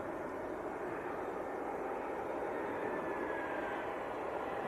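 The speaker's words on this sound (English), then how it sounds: "It's quite a late touchdown" A landing airliner at Leeds Bradford Airport roars steadily from some distance as it touches down late on the runway, a broad continuous rush of engine and air noise without speech.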